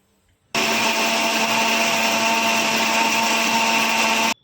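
An electric mixer grinder whirs loud and steady, grinding whole spices for a mutton dish in a home kitchen, starting abruptly after a short pause and running continuously at constant pitch until it cuts off.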